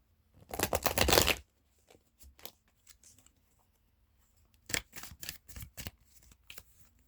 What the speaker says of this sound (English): A quick shuffle.